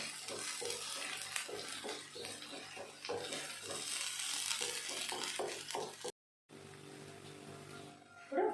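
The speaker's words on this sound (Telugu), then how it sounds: "ఇప్పుడు అల్లం వెల్లుల్లి పేస్ట్, ఈ పసుపు మంచిగా పచ్చివాసన పోయే వరకు వేయించుకోవాలి." Ginger garlic paste and turmeric fry in a pan for chicken kandanakaya fry, a dense close sizzle with rhythmic stirring scrapes, cutting out briefly before the frying resumes more quietly.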